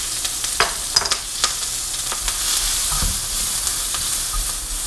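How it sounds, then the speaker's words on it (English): Onions go into hot oil in a wok for lo mein and sizzle loudly and steadily, with a few sharp clicks of stirring near the start and no talk. "So my onions go in."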